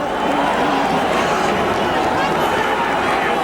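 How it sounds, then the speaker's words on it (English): A big boxing arena crowd at a heavyweight fight fills the air with a dense, sustained roar of booing and noise, while a commentator talks over it. "Always difficult to know why a crowd is booing"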